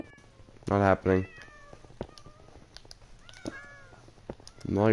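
Two loud, close meows from cats in a video game near a Mustang open the moment, followed by fainter chirps and another strong meow at the end.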